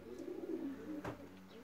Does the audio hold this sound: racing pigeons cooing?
yes